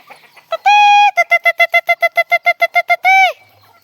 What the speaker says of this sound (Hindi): देखिए इधर देखिए ये मुर्गी सब कैसे आ गया है।